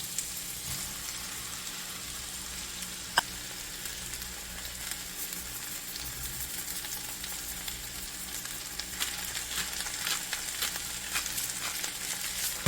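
Potatoes and onions stir-fry in plenty of oil in a wok, a steady dense sizzle and crackle running throughout with one sharp clink near the start, moderately close and with no voices.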